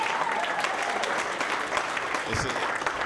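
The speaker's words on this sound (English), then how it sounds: "Y'all clap for that, y'all clap for that." A stand-up comedy audience applauds steadily and loudly throughout, with cheers and voices mixed into the clapping.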